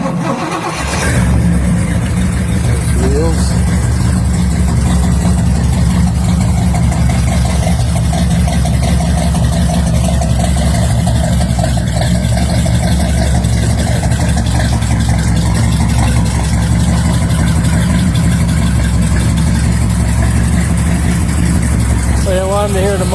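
A 1964 Chevrolet Impala 409 V8 cranks and fires, then settles into a loud, steady, rumbling idle heard up close from the rear for about twenty seconds, with a brief spoken word near the start.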